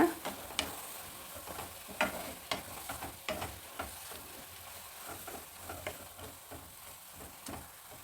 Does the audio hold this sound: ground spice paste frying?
yes